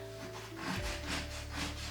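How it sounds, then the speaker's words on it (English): A knife saws back and forth through a club sandwich with a steady, scratchy rubbing rhythm, close up, several strokes in a row with no talking. "bring my knife over here, and I'm going in right about there, holding it down and sawing away"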